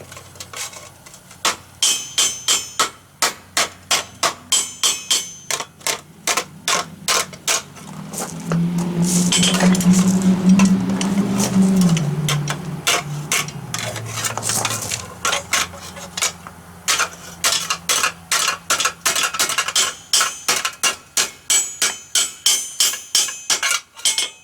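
Forged steel fireplace shovel head hammered on a swage block to refine its bends: a long run of sharp, ringing metallic blows at a steady rhythm, broken midway by a sustained louder grinding-like roar before the regular strikes resume.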